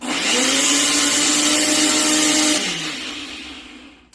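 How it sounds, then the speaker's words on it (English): Kitchen blender grinding fresh seasoning with celery leaves, a loud steady motor whir that runs continuously, then slows and winds down toward the end. "Let's go ahead and put this on and blend this up."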